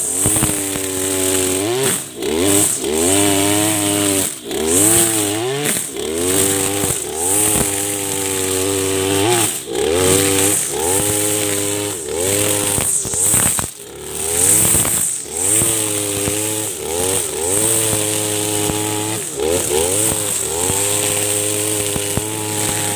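A petrol grass trimmer fitted with nylon trimmer line runs loud and close, its engine buzz rising and falling in repeated revving surges for over twenty seconds with no talking.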